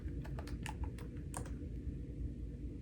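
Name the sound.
typing a password on a computer keyboard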